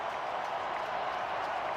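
A stadium crowd at an NFL game, Steelers against Ravens, gives a continuous roar of distant cheering and clapping, steady and broad without clear peaks.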